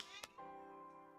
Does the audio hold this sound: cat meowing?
yes